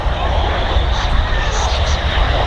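A Mitsubishi CRJ 900 regional jet flying near Manchester Airport, a loud, steady engine roar with a deep rumble underneath, close by and sustained for the whole stretch.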